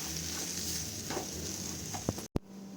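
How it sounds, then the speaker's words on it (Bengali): Semolina stirred in a hot pan as water is added little by little, producing a close, steady sizzle with soft scraping strokes and a sharp break near the end. "আর সাথে সাথে কিন্তু এটাকে আবার নাড়তে হবে, তাহলে কিন্তু সুজিটা ঝরঝরে হবে।"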